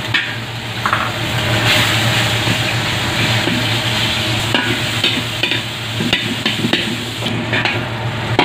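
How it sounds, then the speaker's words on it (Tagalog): Beef goes into hot oil for a beef and bitter gourd stir-fry. A loud, continuous hiss of frying runs throughout, with scattered crackles and stirring scrapes close by. "Maglagay na tayo ng mantika. Guys, mainit na. Lagay natin yung konting beef."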